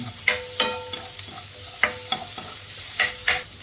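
Garlic and onion frying in a pan for pork dinuguan, a low sizzle beneath repeated spoon scrapes and clinks against the pan, close and moderately loud, with no talking.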